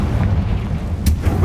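A Confringo blast spell explodes in Hogwarts Legacy on PC: one sharp, bright burst with a booming hit over a steady low rumble of game sound.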